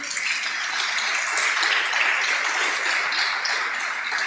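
A church congregation claps loudly and steadily for several seconds during a worship service, a dense, even wash of applause with no break.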